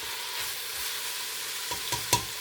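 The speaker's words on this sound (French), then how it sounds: "Les oignons doivent cuire et fondre." Onions alone frying in a pan with no garlic or pepper, a steady close hiss of sizzling oil, then a few brief scrapes of stirring near the end.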